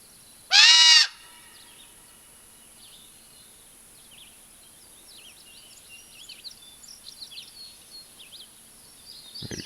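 A large black crow or raven gives one loud, harsh call close by near the start, followed by a long stretch of quiet with faint chirping from other birds in the lakeside woods.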